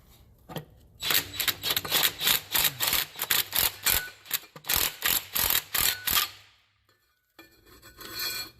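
An impact gun tightens starter bolts on a Dodge Ram, rattling out a fast series of loud, closely spaced hammering bursts with short gaps, then falling quiet, with no talking.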